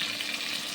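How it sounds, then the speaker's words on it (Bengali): Chopped tomato added to a pan of onions fried until red gives a dense, steady sizzle, loud and close, with no voices. "লাল করে পেঁয়াজটা ভাজা হলে টমেটো কুচি দিয়ে দিচ্ছি।"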